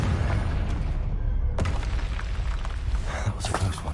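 A Confringo blasting spell goes off in Hogwarts Legacy, a loud booming burst at the start followed by a second sharp blast, with continuous rumbling game noise and scattered crackling debris throughout.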